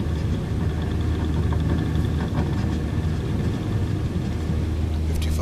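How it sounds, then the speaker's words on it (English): A light aircraft engine runs at full throttle during a night go-around, a loud, steady low droning roar that fills the whole clip with no break. "flaps up, carb heat cooled, full throttle, and we'll go around"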